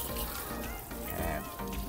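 A strong spray of water from a hose hisses and rushes steadily, a powerful jet hitting a car's paintwork.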